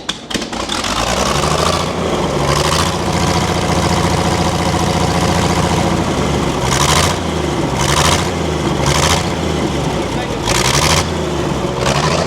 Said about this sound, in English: Listen to that engine go.